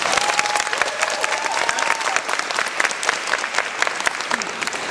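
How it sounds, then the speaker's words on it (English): Applause from a crowd at a basketball camp: dense, steady clapping fills the whole stretch at close range and does not let up. "Give yourself a round of applause."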